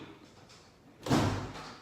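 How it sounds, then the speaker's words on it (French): A door is pushed shut with a single dull thud after a moment of quiet room tone, the impact short and fairly close. "Et tu fermes la porte derrière, d'accord?"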